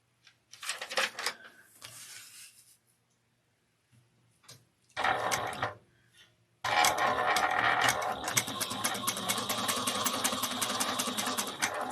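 A sewing machine topstitches a leather espresso wallet an eighth of an inch from the edge, short mechanical bursts at first, then a long steady rattling run of rapid stitching near the microphone.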